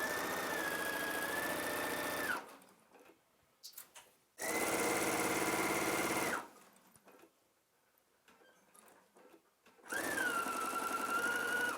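Sewing machine stitching a fabric waistband in steady whirring bursts, three runs separated by quiet pauses filled with faint handling noise, close and clear with no voices.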